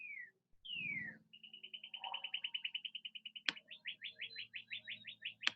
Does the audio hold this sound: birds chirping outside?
yes